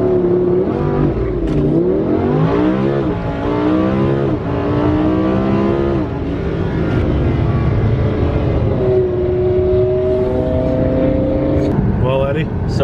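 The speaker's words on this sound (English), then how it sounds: "Mandatory launch control at the stop sign here." A BMW E46 with a loud aftermarket exhaust revs hard and pulls away from a stop sign, its engine notes rising and falling through repeated sweeps, with people talking and shouting over it throughout.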